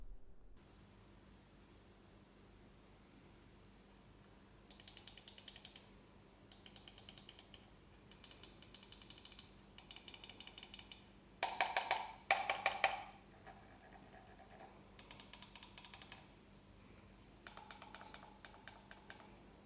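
Bursts of rapid plastic clicking and ratcheting from a Zaopin Z2 4K mouse scroll wheel and buttons, close and fairly quiet, in short separate runs with pauses between.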